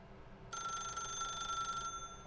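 An office telephone rings in The Stanley Parable: Ultra Deluxe, a single electronic bell-like ring lasting over a second, fairly quiet over a low background hum.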